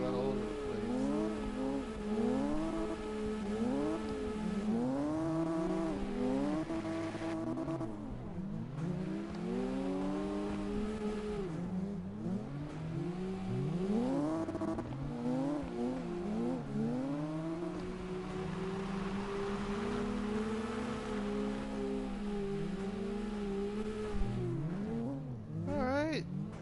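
A Nissan S13 drifting in a racing video game, its engine revving up and down in constant sweeping pitch swings with tyre noise, loud and continuous throughout, with a person talking over it.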